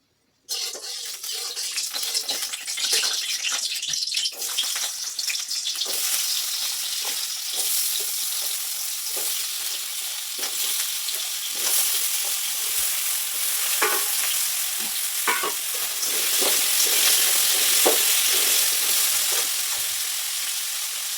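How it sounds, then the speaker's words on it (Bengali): Potato pieces fry in hot oil with salt and turmeric for Bengali-style ghugni, a loud continuous sizzle with frequent stirring scrapes and clinks close by, no voices. "তেল দিয়ে দিলাম, এবার আলুগুলোকে ভেজে নেব একটু"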